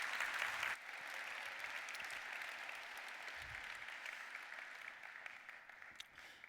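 Sustained audience applause at a live keynote event, a dense steady wash of many hands clapping that fills the whole stretch without speech, opening slightly louder before settling to an even level.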